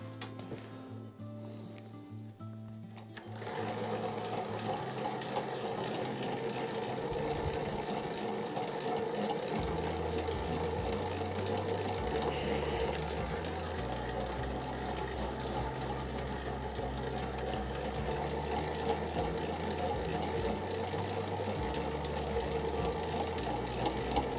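An IM5S spiral dough mixer kneads 63% hydration dough made with Molino Dallagiovanna flour, starting up after a quiet moment into a steady loud churning hum that continues without a break, no speech.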